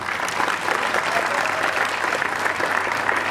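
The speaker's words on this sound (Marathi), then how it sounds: "सो जोरात टाळ्या होऊ द्यात" An audience applauds at the grand premiere of a Marathi film, a dense, steady wash of clapping from a packed house that holds at an even level throughout.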